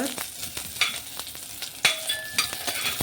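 Garlic frying in a pan with chillies, a soft steady sizzle broken by irregular scraping taps of a spoon stirring the pan.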